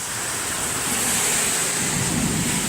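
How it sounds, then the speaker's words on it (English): Heavy rain pours down during a severe thunderstorm, a loud, steady broadband wash with gusty wind and no distinct thunderclap, continuous throughout. "The rain is coming down like cats and dogs."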